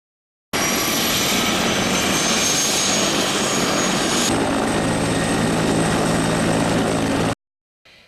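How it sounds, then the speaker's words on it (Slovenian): A Slovenian Army four-blade military helicopter with an 18-metre rotor flies close by, a loud, steady rotor and engine roar that holds for several seconds, then cuts off abruptly, with no voices. "To je helikopter s 4 kraki."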